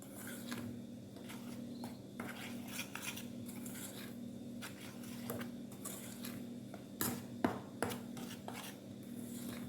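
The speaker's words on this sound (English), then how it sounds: "We're going to mix everything together." Dumpling dough ingredients with cornmeal being mixed in a bowl, soft scraping and clinking of a utensil against the bowl in irregular bursts, close and fairly quiet, with no speech.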